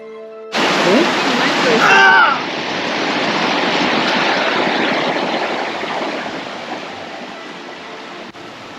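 Steady rushing stream water on the Grotto Falls hike, loud and close, with a brief burst of louder splashing and noise near the start before settling into a constant broadband roar.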